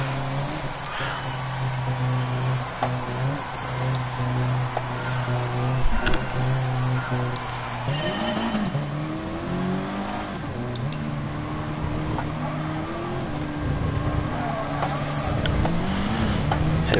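Gr4 race cars in Gran Turismo Sport launch at the start of a Suzuka race: a dense, loud pack of engines drones and revs upward, gear changes shifting the pitch, with steady tyre and road noise throughout.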